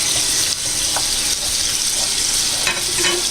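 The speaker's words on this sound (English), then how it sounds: "Now I'm going to add this clam juice in there." Clam juice pours into a simmering Alfredo pasta sauce in a pan, making a loud, steady rushing splash over a bubbling sizzle, with a few faint knocks.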